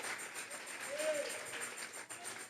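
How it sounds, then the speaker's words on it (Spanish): Church congregation applauding during a Sunday service, a fairly faint, steady wash of clapping with a voice briefly heard underneath. "Vamos a regalarle ofrenda de palmas al Dios de la gloria"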